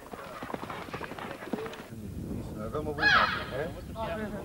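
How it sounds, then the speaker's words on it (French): Horse galloping around a small bullring arena during a bullfight with a young cow, hoofbeats thudding at a quick pace amid crowd noise and a voice talking over them. "Il faut savoir maîtriser son cheval parfaitement, aller vite et tourner autour de l'arène pour saouler la vache ou le taureau."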